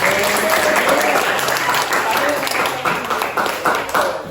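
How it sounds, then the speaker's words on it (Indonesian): A classroom of students claps together, a full, busy round of applause with a few voices mixed in, fading unevenly toward the end. "Oke, tepuk tangan buat semuanya."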